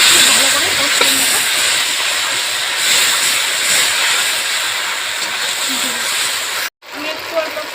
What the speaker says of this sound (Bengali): এবারে আমি মশলাটাকে খুব ভালো করে কষিয়ে নেব।